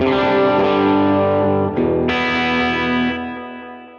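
Distorted electric guitar on the bridge pickup through a Line 6 Helix patch, thick sustained chords with a chorus-like shimmer, a brief break then a brighter chord ringing out and fading, no voices.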